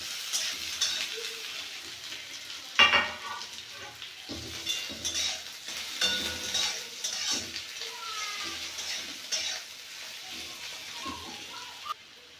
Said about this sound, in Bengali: লঙ্কা পেঁয়াজ ভাজা ভাজা রসুন ভাজা ভাজা হয়ে গেছে